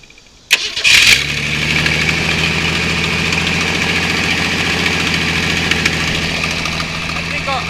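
1965 Ford Fairlane engine cranks briefly, then fires up and settles into a loud, steady, slightly lumpy idle close by.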